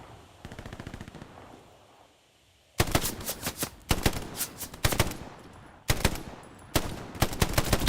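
Automatic machine-gun fire in a World War II video game crackles in loud, rapid bursts, with a quieter rattle first, then several close, sustained volleys separated by short pauses.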